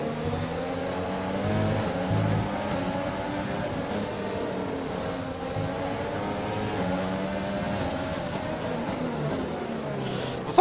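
Formula 1 car engine from the F1 2020 racing game, heard as a steady, loud, continuous drone with shifting pitch as the car runs and changes gears, with no talking.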